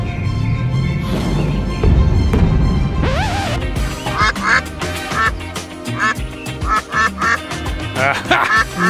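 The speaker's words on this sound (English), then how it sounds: "Nice try, little duck." Several cartoonish duck quacks from a video game duck, repeating in short bursts over busy background music and game sounds.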